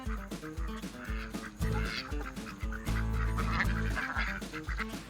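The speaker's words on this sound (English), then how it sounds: "all the ducks are coming." Ducks quacking amid a busy farmyard with donkeys, music playing over them, steady and fairly loud throughout.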